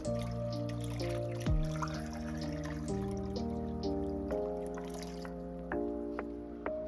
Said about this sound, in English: So I'm going to go ahead and pour this water in.